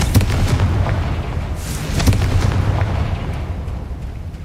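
A Confringo blasting spell bursts in the game Hogwarts Legacy, giving a series of loud, rumbling booms and crackling blasts that repeat over a few seconds in a dense, noisy fight.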